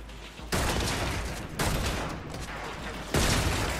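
Gunfire in Warframe: three loud bursts of dense rapid shooting, each starting abruptly and carrying on steadily for about a second or more, close and alone without talk.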